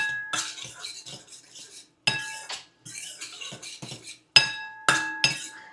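A spoon mixes green, orange and red capsicum into cooking tomato puree in a pan, giving three separate bursts of ringing metallic clinks and scraping strokes with short pauses between them.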